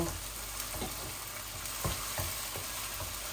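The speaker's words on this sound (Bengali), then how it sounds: "পেঁয়াজটা একটু ভাজা ভাজা হয়ে যাক" A pan of onions fries with a continuous close sizzle, the onions cooking as the base for a chicken and vegetable biryani, with a handful of short scraping stirs spaced through the hiss.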